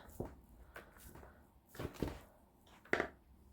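Several cheeses, including curd cheese, are mixed together in a bowl, giving a few soft scraping and thudding strokes spaced apart against quiet between them.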